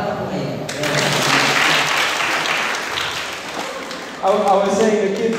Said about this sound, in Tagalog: Palakpak po kayo.